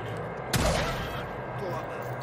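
A single sharp burst of gunfire cracks out in the game Days Gone, then fades into a rumbling tail over steady background noise.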